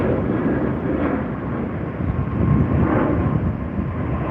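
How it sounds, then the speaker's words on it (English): An American Airlines Boeing 777-300ER airliner roaring past, a loud broad engine rumble swelling and fading under gusts of wind on the microphone. "here's our American Airways 777-300ER"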